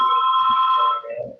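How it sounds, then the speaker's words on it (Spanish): A telephone rings nearby with a loud, steady electronic tone lasting about a second before it cuts off into a softer trailing note. "Suena por ahí algún teléfono"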